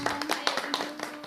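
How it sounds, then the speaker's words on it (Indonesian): Children's school event audience giving a short round of applause, a burst of close rapid hand claps with a voice speaking over it. "kasih tepuk tangannya dulu"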